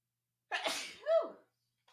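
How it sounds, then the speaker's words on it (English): A single sneeze, close and fairly loud: a sharp breathy burst followed by a short voiced tail, with silence around it. "I'm gonna sneeze."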